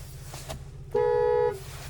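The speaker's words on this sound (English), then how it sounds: "there's the leather wrap steering wheel, horn sound there" Horn of a 2024 Lincoln Corsair Reserve II, a single steady honk of about half a second, loud and close, heard from inside the cabin after a few soft clicks.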